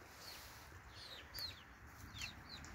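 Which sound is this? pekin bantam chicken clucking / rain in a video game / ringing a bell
pekin bantam chicken clucking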